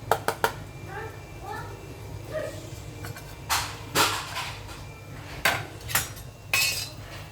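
Cutlery and dishware clatter as corn and tuna are tossed into a salad in a bowl, with sharp clinks and scrapes clustered in bursts over a low steady hum, and faint voices in the background.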